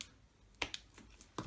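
Scissors snip through card while a balloon shaker card is being made: a few short, sharp cuts, close but quiet, spaced apart with no talking.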